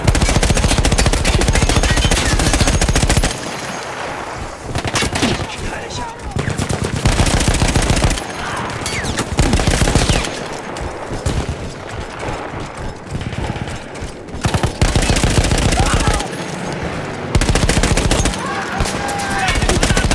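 A mounted machine gun in Battlefield 1's Italian campaign fires in long, loud bursts of rapid shots, broken by a few short pauses, with heavy battle noise filling the gaps.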